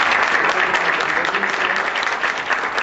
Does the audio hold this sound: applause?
yes